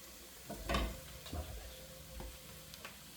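Potatoes frying in a pan while being stirred, a soft steady sizzle with a few clunks and scrapes of the utensil against the pan, fairly quiet.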